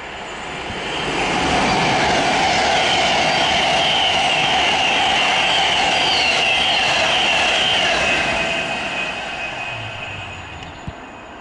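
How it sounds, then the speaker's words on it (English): A Virgin train on the Manchester to London line passes on an open track, its broad rumble swelling over about two seconds, holding steady, then fading slowly as it moves away, with no voices. "now there is a Virgin train service from Manchester to London"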